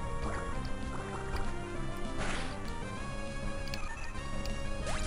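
A Water Gun attack in Pokemon Ruby sounds as a few short splashy whooshes and crashes over steady game music, with no talking.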